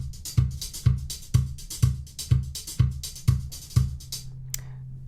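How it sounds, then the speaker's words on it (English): A simple programmed MIDI drum beat with evenly spaced kick and snare hits and busy cymbals, steady and punchy, ending with a final crash. "I just made a simple MIDI drum track"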